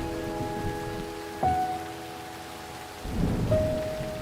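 Steady rain pours outdoors with low rumbles of thunder, a continuous wash of sound with a few faint tonal hums behind it and no voices.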